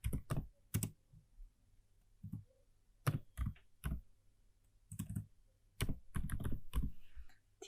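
HTML code is typed on a computer keyboard in irregular clusters of quiet, close key clicks separated by short pauses, with a faster run of keystrokes near the end.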